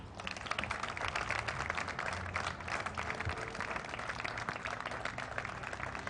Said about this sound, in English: I think both teams deserve a round of applause